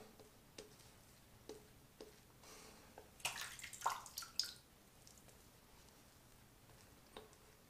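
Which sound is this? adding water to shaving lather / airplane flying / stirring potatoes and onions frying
adding water to shaving lather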